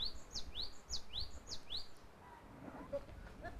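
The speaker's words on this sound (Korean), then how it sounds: "자연에 나오니까 벌써 새소리가 굉장히 상쾌하게 들립니다" Small birds by a lakeside reservoir chirp in a quick run of six or seven rising tweets, then fall back to faint scattered calls over a soft outdoor hush.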